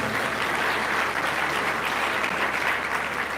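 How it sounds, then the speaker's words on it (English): Dense, steady applause from a large university audience at a Founders Day ceremony fills the clip, a continuous wash of many hands clapping at close range with no speech over it. "Did I hear you give a round of applause?"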